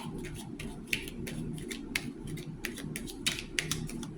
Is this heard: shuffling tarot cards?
yes